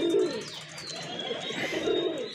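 Pigeons kept as fancy breeding birds at a loft, a close, soft pair of throaty rolling coos with a short pause between them, and faint chirps in the background.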